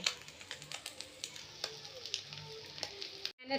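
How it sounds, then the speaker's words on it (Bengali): White prawns frying in a pan make a quiet, close crackling sizzle with frequent small pops, cut briefly just before the end. "চিংড়ি ভাজা করছি, এইগুলো সাদা চিংড়ি"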